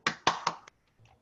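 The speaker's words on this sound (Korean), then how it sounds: "뜨거운 박수로 맞이해 주시면 감사하겠습니다." Three quick, sharp hand claps ring out close together, then a soft short rustle follows, welcoming a lecturer at a digital dental seminar.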